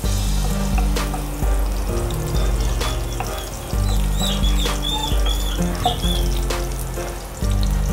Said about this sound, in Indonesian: Igisa natin po yung bawang. Hintayin natin mag-brown.